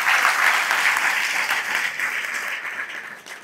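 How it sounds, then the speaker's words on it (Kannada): Audience applause at a Shiva katha religious discourse in Yadur, a dense, sustained crowd clapping heard close and loud, slowly tapering toward the end. "ಜೋರಾಗಿ ಚಪ್ಪಾಳೆ ತಟ್ಟಿ"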